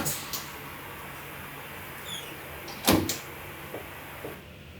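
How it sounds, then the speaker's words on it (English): In a 3D-printed solid-state battery production lab, a machine door is opened with a few short clicks and a louder latch clunk, over a steady low hum of equipment. "Now we open this door."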